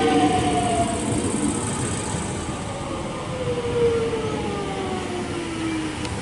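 Melbourne suburban electric train pulling out of Glenferrie station, a steady rumbling roar with a rising motor whine gliding upward as it accelerates away, no voices over it.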